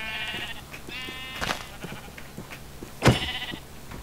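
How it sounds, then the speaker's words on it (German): Sheep in a Minecraft-style building game bleat in several short, wavering calls spread over a few seconds, with one sharp louder click or hit near the end, heard alone without talk. "So, Schafe."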